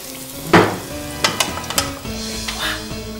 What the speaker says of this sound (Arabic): انتم جيبوا اللحم وانا نقلي